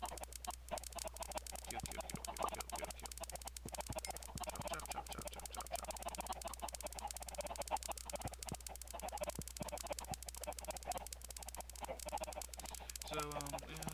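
Faint, repeated chicken clucks come from a Minecraft automatic chicken farm and grinder, quiet over a constant low hum.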